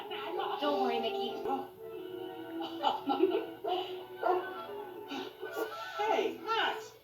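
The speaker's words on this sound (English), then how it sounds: "get the dog! Go, Max, go" A cartoon dog barks and yips in short bursts, mixed under excited shouting voices.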